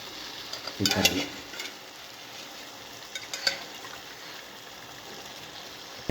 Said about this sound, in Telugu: అంతా తిప్పేస్తాం